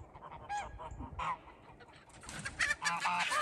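Laying hens in their new coop let out a quick series of close, nasal honking clucks and squawks that grow busier toward the end.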